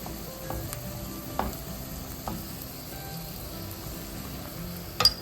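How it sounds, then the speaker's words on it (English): Onions fry in a pan while being stirred occasionally, a soft, steady sizzle with scattered crackles and a few light utensil taps, the clearest near the end. "We're gonna stir occasionally and cook about 7 minutes until the onions are softened."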